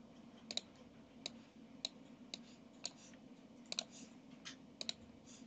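A computer mouse gives sharp, isolated clicks at irregular intervals, about a dozen in all, close but quiet over a faint steady room hum, with no voices.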